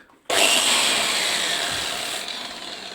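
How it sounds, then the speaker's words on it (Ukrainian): An angle grinder starts abruptly and runs steadily at close range, a loud harsh whine that holds for several seconds. "Буду працювати болгаркою"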